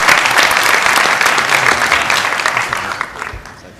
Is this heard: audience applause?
yes